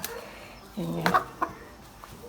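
A sick pet chicken gives a few soft, brief clucks in a quiet setting, a short burst followed by a single faint note.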